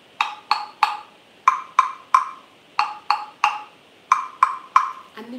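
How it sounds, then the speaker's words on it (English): Wooden go-go blocks tapped with a wooden beater: a steady run of crisp, hollow knocks in groups of three, close and clear, with no talk over them. "Or we can tap them."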